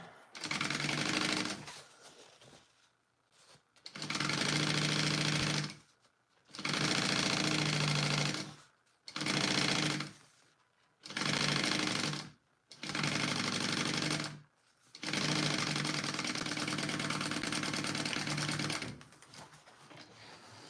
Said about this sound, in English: Let's sew these together.